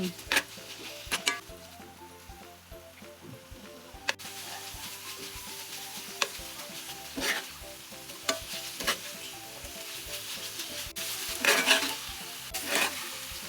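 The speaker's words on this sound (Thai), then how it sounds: "จากนั้นคั่วให้เข้ากัน" Beef with homemade southern Thai chili paste, oyster sauce, fish sauce, kaffir lime leaves and green peppercorns stir-fried in a pan, with steady sizzling and repeated scraping and clinking of the spatula against the pan, up close and without talk.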